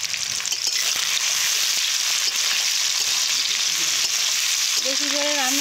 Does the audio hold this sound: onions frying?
yes